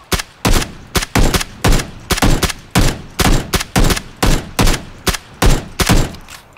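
Gunfire in the video game Battlegrounds (PUBG): a loud, steady string of about a dozen evenly spaced bursts, each a short rattle of shots with brief gaps between, with no talk.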